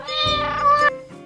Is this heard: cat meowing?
yes